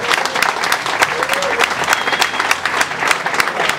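Audience applause at a handball club's season launch evening, a loud, dense clapping from a hall crowd that holds steady throughout the clip.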